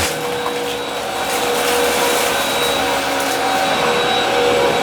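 A Hoover WindTunnel All-Terrain upright vacuum cleaner on its low setting for hardwood floor drones steadily at close range, a constant whirring hum with no breaks and no voices.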